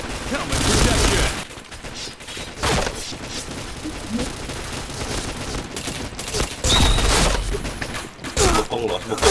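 Video game gunfire crackles in bursts of rapid shots and a few single reports, loud and close, with stretches of quieter gameplay noise and a voice talking between volleys.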